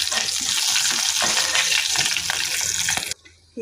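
Small cucumber pieces frying in a pan for chutney, a loud steady sizzle with stirring scrapes close up, cutting off abruptly near the end.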